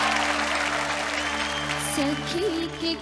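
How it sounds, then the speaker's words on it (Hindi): Enthusiastic audience clapping at a Bhojpuri music show in Jamshedpur, greeting the singer as she takes the stage, a continuous crowd applause over a sustained musical drone, with a brief voice near the end. "जोरदार ताली के साथ स्वागत करी"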